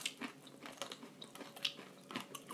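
Someone bites and chews crispy fried tulumba dessert up close, making soft, quiet crunches and crackles at irregular intervals with no voices.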